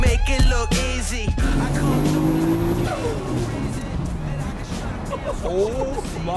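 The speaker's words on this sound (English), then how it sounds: "that is insane how loud that flutter is" A car engine revs hard with a loud, fluttering turbo-style chatter, rising and falling under music and a singing voice, followed by a swelling, roaring exhaust note.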